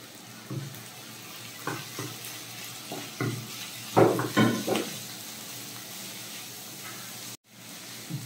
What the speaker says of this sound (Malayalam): ഇനി നമ്മൾ കഴുകി വൃത്തിയാക്കി വെച്ചിരുന്ന കക്ക ഇറച്ചിട്ട് കൊടുക്കാം.